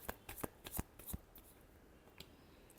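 Tarot cards are shuffled close up in a quick series of crisp riffling flicks and slaps, then a quieter pause with a few soft taps near the end.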